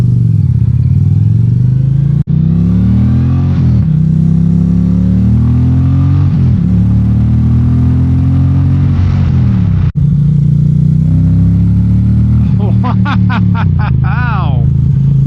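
A 2025 Indian PowerPlus Limited liquid-cooled motorcycle accelerates hard, its loud engine note rising and dropping through several gear changes before climbing again, with a voice briefly over the top near the end.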